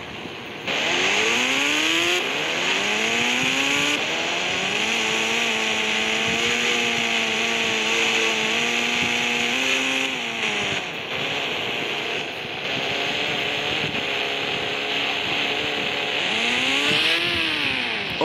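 A ZX 10 motorbike engine in the video game Indian Bikes Driving 3D drones loudly and steadily, its pitch rising and falling as the rider revs and shifts, with no talking.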